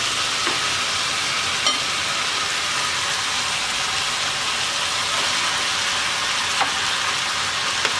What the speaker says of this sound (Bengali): এবার আমরা শিং মাছটা দিয়ে 5 মিনিট কষিয়ে নেব।